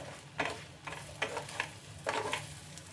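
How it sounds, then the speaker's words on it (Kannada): Egg pepper fry cooking on medium flame, giving a steady soft sizzle with several scraping stirs of a spoon against the pan, fairly close and moderately quiet, no voices. "ಸ್ವಲ್ಪ ಮೀಡಿಯಮ್ ಫ್ಲೇಮಲ್ಲಿ ಇಟ್ಕೊಂಡು ಚೆನ್ನಾಗಿ ಫ್ರೈ ಮಾಡ್ಕೊಳ್ಳಿ"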